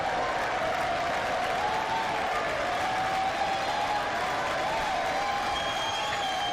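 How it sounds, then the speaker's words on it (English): Steady, dense applause from a large crowd fills the whole stretch, even and continuous without letting up. "Thank you for that very generous applause."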